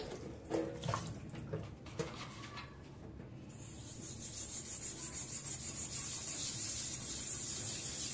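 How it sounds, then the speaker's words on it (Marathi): A new iron kadai is scrubbed with soap and water, first with a few rough, uneven rubbing strokes, then a steadier rhythmic scouring with running water, close and fairly quiet. "तर याला आता मी साबणाने घासून घेते"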